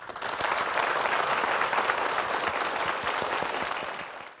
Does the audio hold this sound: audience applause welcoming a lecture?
yes